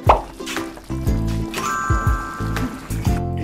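Water worked by hand into sticky rice dough for Hakka jian dui gives wet, squishy plops and squelches in a loose rhythm of about two per second, close and moderately loud, with a faint voice in the background.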